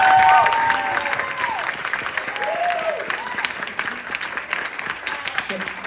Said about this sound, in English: everybody give it up for Brian's score